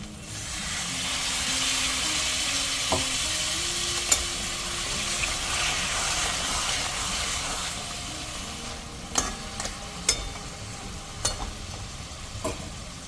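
Crab masala sizzles loudly and continuously in a pan after spice-rinse water is poured in, with a steady frying hiss and a few sharp spoon clicks near the end.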